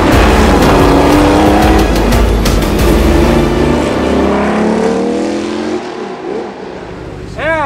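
Several Porsche race cars driven hard on a commercial shoot, engines roaring and revving loudly throughout with passing sweeps and a brief tire squeal near the end.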